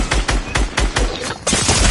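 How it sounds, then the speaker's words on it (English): Rapid bursts of gunfire from the video game Fortnite, loud and close, with about six to eight repeated shots in quick succession and a denser burst toward the end. "They're shooting."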